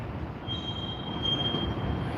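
A short freight train of under twenty cars, carrying a load from the docks, rolls past on rails with a steady rumble and a thin, sustained wheel squeal, fairly close and with no one talking.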